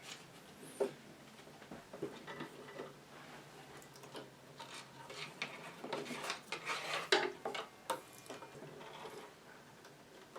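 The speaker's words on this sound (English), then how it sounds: "So the final step is putting the chassis in the cabinet." An old Chelsea Super 5 radio chassis slides into its wooden cabinet, heard as quiet, uneven wooden rubbing and scraping with a few light knocks and ticks, with no talk.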